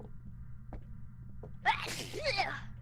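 A person gives a single close, sharp sneeze partway through, with a breathy intake and then a burst. Before it there is only a low room hum and a few faint clicks.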